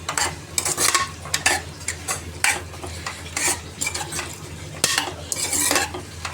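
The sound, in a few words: stirring tomato pieces into mutton curry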